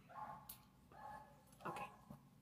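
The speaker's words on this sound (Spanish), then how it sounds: "Disculpen al perrito que está ladrando" A small dog barks outside a window, three or four short yaps spaced across a couple of seconds, faint and somewhat distant in a quiet room.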